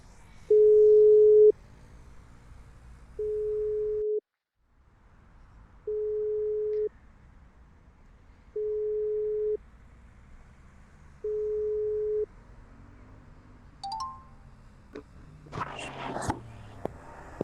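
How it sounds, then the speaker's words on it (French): A French phone call's ringback tone repeats five times as evenly spaced steady beeps, followed by faint handling noise and rustling as the call connects. "Je vais l'appeler tout de suite."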